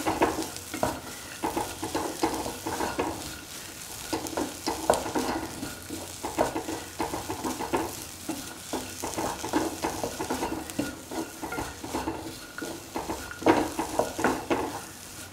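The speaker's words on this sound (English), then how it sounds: "Keep on salting and mixing the shallots and the ginger till the shallots lose their pink color." Shallots and ginger being stirred and fried with salt in a pan, a steady close sizzle broken by repeated scraping and clattering strokes of a utensil against the pan throughout.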